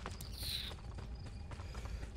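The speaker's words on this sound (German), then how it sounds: "Pferde..." Horse hooves clip-clop in a quick uneven rhythm on a street in the video game Assassin's Creed Brotherhood, close and clear over low ambient background noise.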